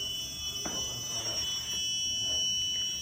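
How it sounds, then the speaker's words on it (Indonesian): An electronic buzzer on a distance-sensing device sounds with the object 75 cm away, a steady high tone held throughout over faint background hiss, with no talking. "Jarak 75 cm, buzzer berbunyi dengan bunyi yang berbeda."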